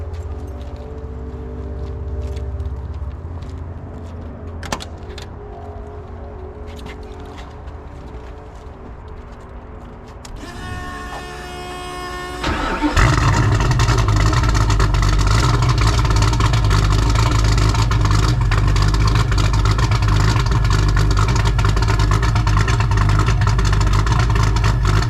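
A Ford Mustang Foxbody with a 5.0 engine starts up after quiet background noise, the starter whir followed by a loud, rumbling idle that holds steady and close for the rest of the clip.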